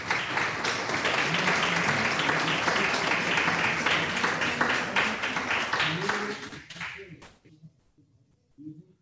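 Dense audience applause at a solemn municipal council session marking a canton's 158th anniversary, loud and sustained for several seconds before thinning out and dying away into near silence.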